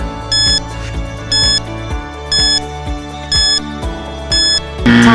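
A quiz countdown timer ticks out a steady beeping pattern of bright, loud pulses about once per second, ending in a sudden burst of alarm sound.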